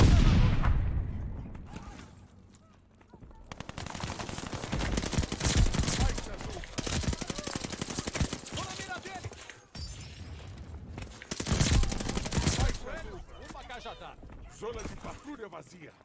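Gunfire in Call of Duty: Vanguard, sharp shots and bursts scattered across a noisy multiplayer match, layered with game ambience while a player talks over it.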